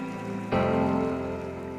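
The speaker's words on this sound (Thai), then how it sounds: "แต่ฝนก็ได้เทลงมา" A sudden wash of steady rain starts and keeps pouring in Hua Hin, Thailand, a dense hiss of drops hitting a surface nearby.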